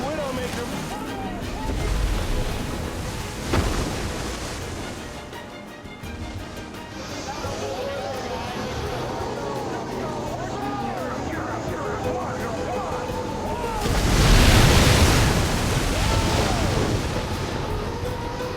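Huge ocean waves in heavy 15-foot seas crash and roar around a boat, a constant loud wash with wind buffeting, and a bigger surge of breaking water near the end.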